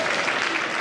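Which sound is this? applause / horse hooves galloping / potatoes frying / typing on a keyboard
applause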